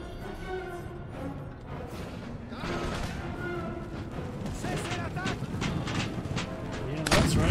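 Howitzer artillery in the game Empire: Total War fires in repeated heavy booms that blend with battlefield gunfire into a dense, continuous roar, while a man gives commands over it.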